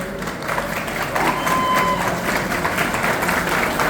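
An audience at an arts and culture ceremony in the Palacio Barolo applauds, building quickly into dense, sustained clapping that stays fairly close and loud for several seconds.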